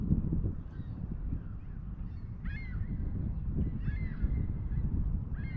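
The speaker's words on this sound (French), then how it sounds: "Je pense que les mouettes sont d'accord." Gulls call several times in short, bright cries at mid distance over steady wind and water rumble near the river at Verchères, Quebec, on a stormy April day.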